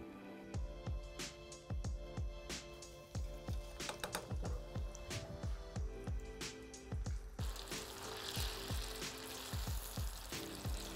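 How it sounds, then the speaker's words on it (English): Par-cooked potatoes fry in hot oil for fries, a close, steady sizzle with scattered crackles and pops, growing into a denser hiss near the end. "then we're gonna fry them for the first time"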